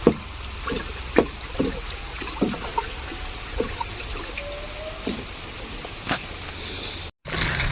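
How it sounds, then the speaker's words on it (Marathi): A fertilizer mixture stirred in water, with close, irregular sloshing and knocking splashes as the liquid is churned, each stroke a short wet slap over a quiet trickling background. "जरा मिक्सर करून घेऊ."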